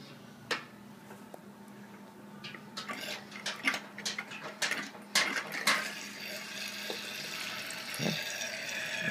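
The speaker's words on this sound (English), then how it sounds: "So I'm just going to start my siphon now." A water siphon starts up, drawing air through tubing by Venturi effect, with irregular gurgles, clicks and bubbling that build into a steady hiss of aerated flow, quiet and close.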